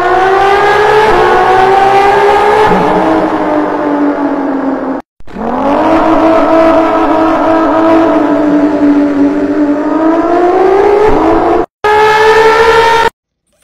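Human voice imitating a car driving through a tunnel: a loud, continuous droning engine tone that swells and bends in pitch, cut by two brief breaks, performed alone without other talk.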